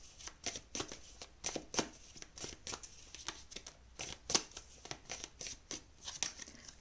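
Tarot cards being shuffled and handled in a string of crisp, rhythmic riffles and slaps, close up and fairly quiet, with no voices over them.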